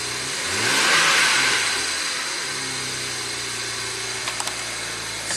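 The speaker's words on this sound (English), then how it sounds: "Let's fire it up." A BMW 335i twin turbo engine with a no-boost fault cranks and catches, swelling to a brief rev before settling into a steady close idle hum, with a few small clicks near the end and no speech.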